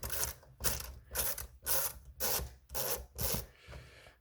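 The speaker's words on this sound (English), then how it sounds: "Use your Phillips screwdriver and just start undoing screws." A Phillips screwdriver undoes screws on a Fellow Ode Gen 1 coffee grinder, making eight even, rasping turns in a steady rhythm, close and fairly quiet, with no talk.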